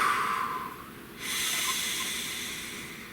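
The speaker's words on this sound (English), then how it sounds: "Please take a nice deep breath." A nice deep breath drawn in through the nose, a close, airy hiss that swells, dips briefly and then carries on as a long, steady exhale in a humid room.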